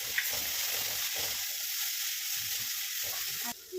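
Chopped onions and tomatoes sautéing together in a pan for sambar, a steady close sizzle of frying, with a few soft stirring scrapes and a brief clatter near the end.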